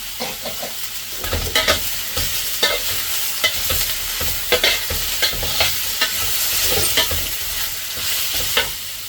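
Vegetables with celery sautéed in a hot pan for pansit habhab, a steady sizzle broken by repeated scraping and stirring clatters from a utensil, close and moderately loud with no talk.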